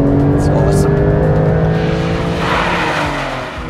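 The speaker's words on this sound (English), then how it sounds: "Another first on the Turbo S is the Sport Exhaust option." A Porsche 911 Turbo S (992) with Sport Exhaust revs hard and rises in pitch as it accelerates, loud and close, with a throaty exhaust note fading slightly near the end.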